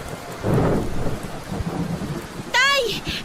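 Heavy typhoon rain pours steadily while thunder rumbles low and loud, a radio drama storm effect with a brief higher cry near the end.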